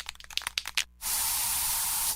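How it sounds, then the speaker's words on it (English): An aerosol can of bug spray is discharged indoors in a home, a steady loud hiss lasting about a second after a few clicks and rattles of the can. "So you just used bug spray in your home."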